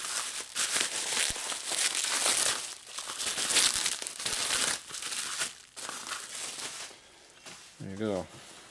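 Plastic packaging for a 2000–09 Buell Blast 500cc cam cover and camshaft set crinkles and crunches in bursts while being rummaged through, close up, with a person talking over and between the rustling.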